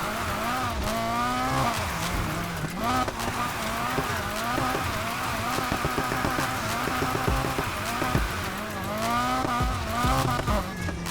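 A Nissan 180SX drifting in Need for Speed Heat: the engine revs rise and fall in repeated sweeps, with tires squealing and skidding through each slide, loud and close throughout.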